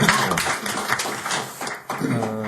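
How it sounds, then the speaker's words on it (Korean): Brief applause from a small audience at a Korean church panel discussion on leadership and social unity, a steady patter of hand claps filling the room for a couple of seconds. "박수하겠습니다"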